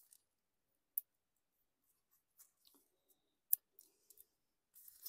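Scattered quiet snips and clicks of scissors cutting thread while making a Japanese stab-bound journal, irregularly spaced, close up in an otherwise silent room.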